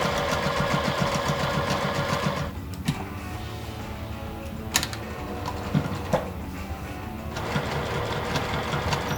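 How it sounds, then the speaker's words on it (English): A sewing machine stitching around the edge of a pocket opening for a quilt, a rapid mechanical whirring that runs steadily, pauses briefly with a few clicks, then resumes. "I'm going to just sew right along the edge of this opening all the way around"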